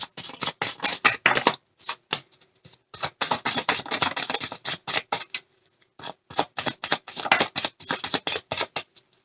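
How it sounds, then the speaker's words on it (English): A deck of tarot cards riffled and shuffled by hand in fast bursts of crisp flapping and snapping, with short silent pauses between bursts, close and clear, with no talking. "Last shuffle."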